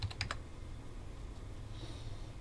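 Keyboard typing while entering a circle diameter in CAD drafting software: a quick burst of three or four crisp key clicks at the start, then quiet room tone with faint background hum.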